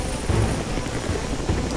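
Helicopter in the video game Prototype, a steady loud rotor drone with a dense low chop filling the whole short stretch, close and continuous.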